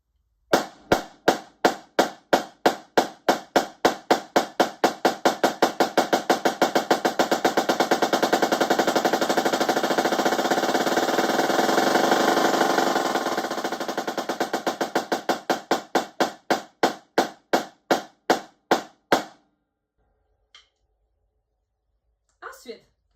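A snare drum plays a drumline rudiment, starting with slow, evenly spaced strokes and accelerating into a dense roll before slowing back to separate hits and stopping, loud and close with a slight room echo.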